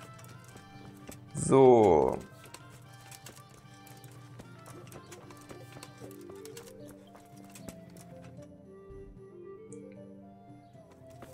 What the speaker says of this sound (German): Mein treues Pferd? Ach, lief die ganze Zeit hinter mir.